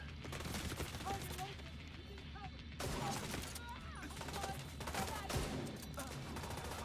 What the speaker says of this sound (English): it appears to be that I have bullets whizzing over my head